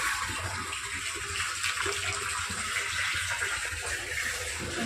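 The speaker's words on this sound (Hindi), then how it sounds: "देखते हैं पानी जा रहा कि नहीं।" Water running steadily into a rooftop water tank, a continuous even rush with a faint hiss and no pauses, heard fairly quietly with no talking.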